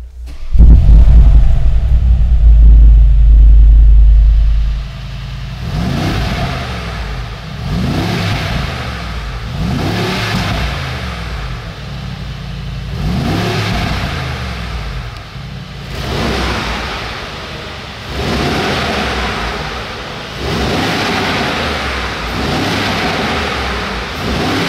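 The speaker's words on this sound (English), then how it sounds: "So let's press the button for the engine to start." A 2021 Mercedes G63 in Sport Plus mode fires up with a loud, booming start, then settles into a lower idle. Five rising and falling revs follow in a steady sequence, with no talking over them.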